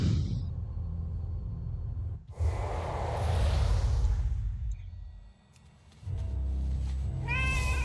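A cat in World of Warcraft gives a few short meows and breathy hisses over a low game ambience, with a brief rush of noise and a rising yowl near the end.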